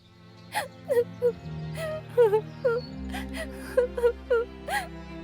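A cartoon bird cries in a Hindi animated story, giving a series of short whimpering sobs and wails at an uneven rhythm over a soft background music bed.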